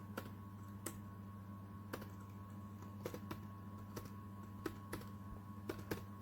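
Keys clatter on a computer keyboard as a math formula is entered into Maple, a steady run of sharp, close taps over a low constant hum, with no voices.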